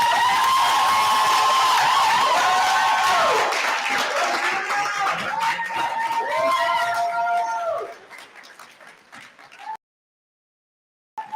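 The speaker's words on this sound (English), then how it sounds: "Big applause" Crowd applause at a June 2024 graduation ceremony as a student goes on stage, clapping mixed with long rising and falling ululating cries, loud at first and then fading away into silence.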